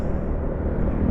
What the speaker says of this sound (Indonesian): ini pesawat.